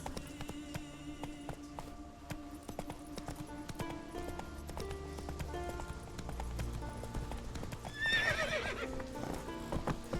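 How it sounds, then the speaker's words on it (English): The horse Roach in The Witcher 3 gallops with steady clip-clop hoofbeats under game music and ambience, with a short whinny near the end; no talk is heard. "Come on, Roach"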